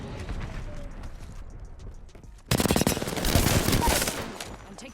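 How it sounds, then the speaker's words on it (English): Rapid automatic gunfire in the battle royale game Apex Legends, starting abruptly midway as a dense, loud burst of shots over faint game ambience. "I'm taking shots."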